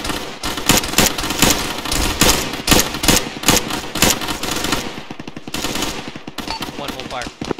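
Rapid bursts of automatic gunfire pour onto an enemy bunker in a military video game, loud and continuous with dense overlapping shots, thinning toward the end into quicker scattered bangs.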